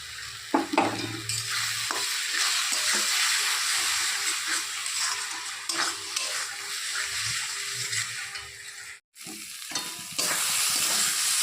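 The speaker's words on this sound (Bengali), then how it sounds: "ভালো করে মশলাটাকে কষাতে হবে যতক্ষণ না তেল ছাড়ছে মশলা থেকে" Spice paste fries in oil in a pan with salt added, making a close, continuous sizzle and hiss with repeated scraping stir strokes. It drops to a brief silence near the end, then resumes.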